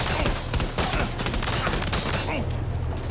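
Dense, continuous gunfire from the video game Death Stranding 2, with rapid overlapping volleys that stay loud and steady throughout, layered with other game sounds.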